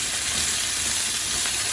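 Potatoes with fresh rosemary, garlic and olive oil sizzle in a hot pan, a steady, dense, close hiss with no breaks and no voices.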